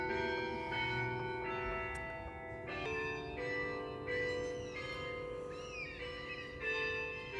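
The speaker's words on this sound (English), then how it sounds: "Yeah, so this is the church bells." Church bells ring in layered, overlapping peals, keeping up a continuous, fairly quiet clang as if heard from some distance.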